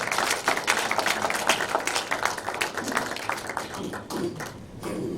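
An audience at a church celebration service for the appointment of a denomination's general superintendent and a university president applauds steadily, a dense patter of claps that thins toward the end, heard at moderate distance in a hall.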